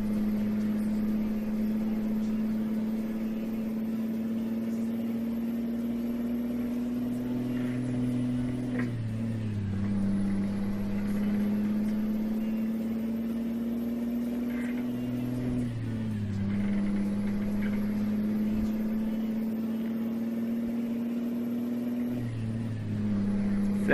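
A Scania 113H 360 hp truck engine labours up a long mountain grade on the Los Caracoles pass in Chile, droning steadily near and loud, with its pitch climbing then dropping at each gear change, heard twice.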